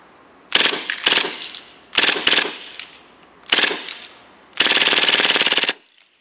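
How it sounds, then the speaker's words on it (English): KWA KMP9 airsoft submachine gun firing on full auto outdoors: five loud, rattling bursts of rapid clicks, the first four short and the last a longer sustained string, with silence between them. "Now for the fun part, a little bit of full auto."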